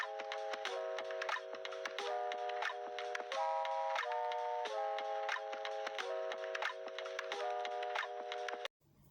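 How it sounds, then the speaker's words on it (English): Domestic sewing machine stitching around a shoulder dart top, a steady run of quick rhythmic mechanical clatter with repeating tonal whirs, close and continuous for several seconds before stopping abruptly. "This is how you continue sewing it until you are done sewing it all around."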